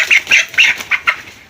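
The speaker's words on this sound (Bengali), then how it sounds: "11 তারিখের মুরগি দেখেন" Broiler chickens on a farm give a rapid series of short, loud, close clucks and chirps, about six in a row, then trail off.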